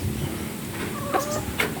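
Rhode Island chickens cluck in short soft bursts. Two or three brief calls rise over a steady farmyard background with no talking.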